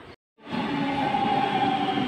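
A driverless automatic metro train pulls into San Giovanni station in Rome. After a brief dropout, a loud, steady rumble rises with a sustained mechanical whine that holds close and constant.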